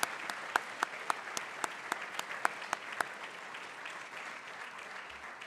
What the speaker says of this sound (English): Please give a round of applause to our 2 nominees this year, Ari Levin and Julia Lejean.